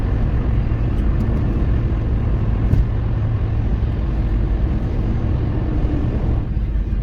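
Steady loud road roar of a car passing on a motorway, heard from inside a moving vehicle with constant low rumble throughout and no talking.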